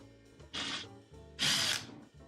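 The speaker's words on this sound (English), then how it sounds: "I'm just going to pre-drill those a little bit" A power drill pre-drills holes in wood lumber, two short whirring bursts with the second longer and louder, close by, with quiet pauses between.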